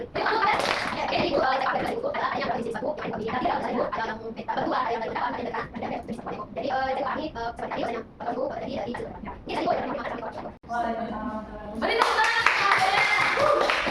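A classroom full of people clapping together, a dense patter of applause that carries on steadily with a few short pauses.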